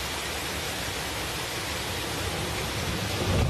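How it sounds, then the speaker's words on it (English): Flash flood water rushes through the streets of Estepa, Seville, a loud, dense, unbroken roar of torrent noise that holds steady throughout with no voices. "this is footage of a flood in Seville"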